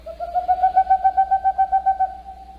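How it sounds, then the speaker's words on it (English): Boreal owl (Aegolius funereus) giving a rapid, even series of about a dozen hollow hoots in a steady rhythm, clear and alone against a quiet background. "The boreal owl, Aegolius funereus, today's Talkin' Birds featured feathered friend."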